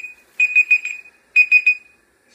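A kitchen timer alarm goes off while rhubarb beer is being brewed, two loud bursts of rapid high electronic beeps in clear quiet surroundings with no talking.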